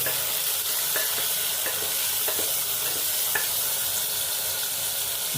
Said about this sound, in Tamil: தக்காளி போட்டு நல்லா கிண்டணும்